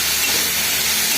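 Pattani gravy of peas with tomato and salt boils hard in a pan, a loud, close, steady bubbling hiss with no break and no voices.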